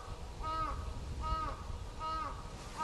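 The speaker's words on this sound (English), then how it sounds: "those birds are freaking laughing at me" Crows give repeated cackling caws outdoors in Japan, three evenly spaced bursts a second or so apart. The calls sound laugh-like, moderately distant and fairly faint over a steady background hum.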